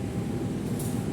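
Jayabaya train at Bekasi station at night, a dense continuous low rumble of rolling carriages with no voices.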